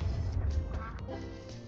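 Ducks quack in a duck hunting video game, a few short nasal calls over a loud low rumble of game background noise.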